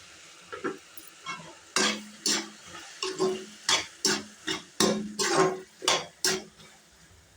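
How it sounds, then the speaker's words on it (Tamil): Tomatoes with salt sauté in a pan as a spatula scrapes and taps in a quick, uneven rhythm of about a dozen distinct strokes over a faint sizzle. "தக்காளி நல்லா வதங்கணும், நல்லா பேஸ்ட் மாதிரி ஆகணும்."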